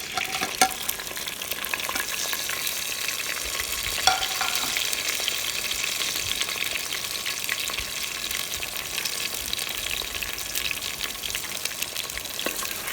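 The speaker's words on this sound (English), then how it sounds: "We will cook these onions, fry these onions for probably 5 minutes" Chopped onions fry in warm vegetable oil in a clay pot while foul mudammas is being made, giving a steady, dense sizzle that runs the whole way through with a few faint stirring knocks.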